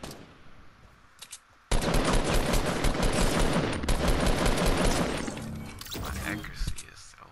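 Rapid automatic fire from a purple-rarity assault rifle in Fortnite, a loud dense burst of shots running several seconds with a brief break, then more shots near the end.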